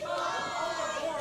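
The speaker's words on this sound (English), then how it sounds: "you hear the fans now not giving much love here to Jake Slater" Wrestling arena crowd voicing disapproval of wrestler Jake Slater, a brief sustained roar of many voices with jeering tones, loud and dense throughout.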